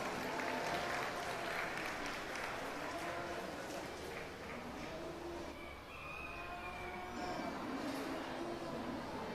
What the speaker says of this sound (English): Let's have a round of applause for our Class 1 exhibitors